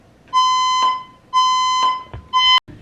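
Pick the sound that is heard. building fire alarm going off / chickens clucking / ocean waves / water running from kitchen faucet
building fire alarm going off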